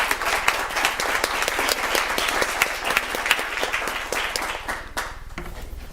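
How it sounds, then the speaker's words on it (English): A room at a school district board meeting breaks into applause for a retiring colleague, dense clapping that holds steady and then thins out at the end. "So I would like to all stand and clap for Tamara."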